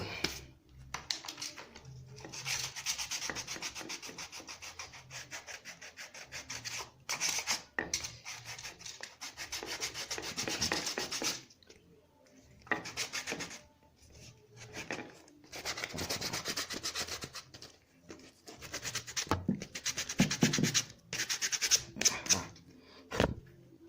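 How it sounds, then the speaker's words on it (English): Sandpaper is rubbed against leather to roughen it, producing close, rhythmic scratchy strokes in bursts with short breaks between them. "for the sake of this tutorial, we are using a sandpaper to roughen it"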